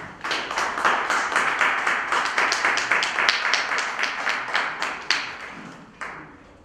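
A lecture audience applauding to welcome a speaker, a rhythmic, fairly close round of clapping that holds steady, then tapers off near the end.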